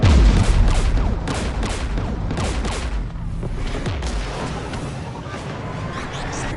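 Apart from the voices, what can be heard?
gunfire in a video game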